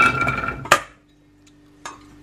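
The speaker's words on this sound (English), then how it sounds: "What we're going to do now is we're going to lump all of this into the slow cooker." Diced butternut squash, onions and garlic tipped into a slow cooker, a short tumbling clatter followed by a sharp ceramic clink, then near silence before one more clink.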